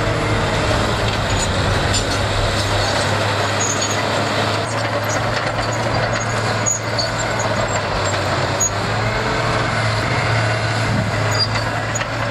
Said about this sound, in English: cargo truck roars through the harsh quarry. Powerful engine unleashes hundreds of horsepower